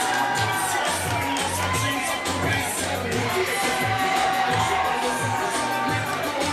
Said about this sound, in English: Crowd showing their appreciation.